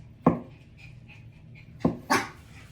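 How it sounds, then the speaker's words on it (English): A small puppy lets out three short, sharp barks spaced apart, with faint whimpering and panting between them, close by in a quiet room. "My little dog is not having it."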